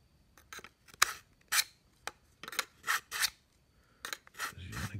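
A dull knife drawn through a Smith's Edge Pro sharpener on the fine slot: a series of sharp rasping scrapes at close range, some single and some in quick pairs, with short quiet gaps between strokes.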